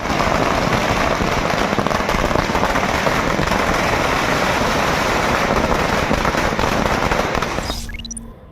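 Dense, continuous crackling bursts of firecrackers set off in an election victory celebration, going off nonstop at close range, loud and relentless, tapering off at the very end.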